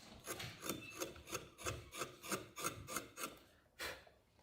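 Hand tool rasping carved wood into a twist shape, about a dozen rhythmic scraping strokes at an even pace, close and clear with no talk.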